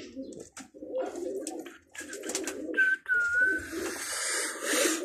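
Pigeons coo on a rooftop, soft low repeated coos close by, with a few chirps and a thin whistle-like call partway through.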